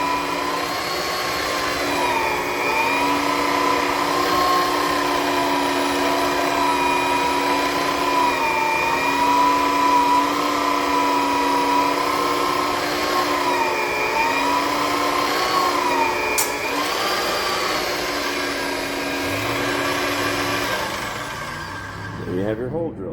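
A magnetic drill bores a hole through steel, its motor whining loud and steady for about twenty seconds with a shifting cutting tone, then spinning down near the end.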